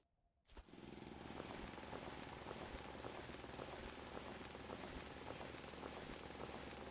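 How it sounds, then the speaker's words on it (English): A drill in the video game Foundry starts abruptly and runs as a loud, steady rattling mechanical grind, continuous and close, with no voices over it. "Let's find a spot where we can drill safely."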